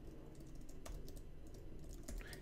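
Quick, irregular keystrokes on a computer keyboard click softly and close by while someone writes code, with a couple of sharper taps standing out.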